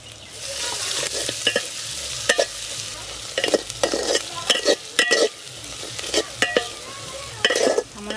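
Chicken and spices, salt, turmeric and chili powder, fried and stirred in a pan, a loud steady sizzle punctuated by repeated scraping and clanking strokes of a spatula, close and without talk.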